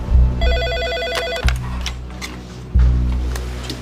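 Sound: telephone ringing for an incoming call

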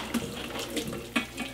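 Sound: draining boiled pasta in a sink

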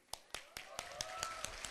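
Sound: audience applause

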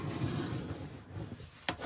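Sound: folding a paper file folder along a score line

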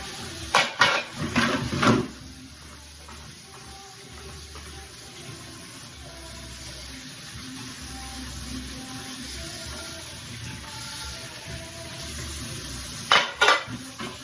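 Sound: dishes being washed

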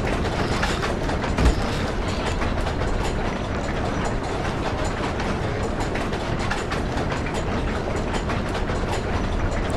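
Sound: train passing by, from video game Amnesia: The Dark Descent

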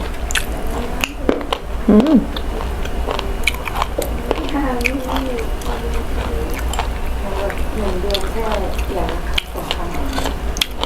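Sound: chewing while eating mushrooms with rice

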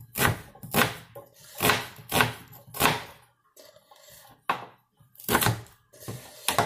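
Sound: chopping onion with a knife

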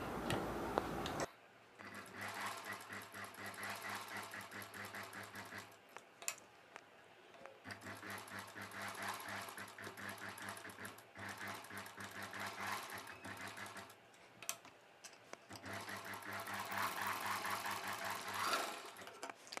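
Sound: sewing machine stitching around the neck of a long dress

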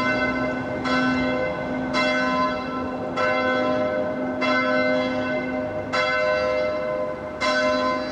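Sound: church bells being rung

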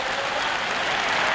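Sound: stadium crowd of 25,000 cheering at an athletics race

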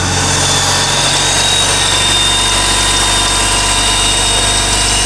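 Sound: BMW M54 325ti engine started and idling

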